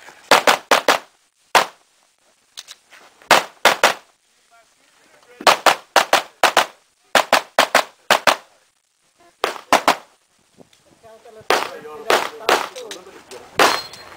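Rapid handgun shots ring out at a shooting range, sharp cracks in tight bursts of two to four separated by short pauses, loud and close, with some quiet talk between strings.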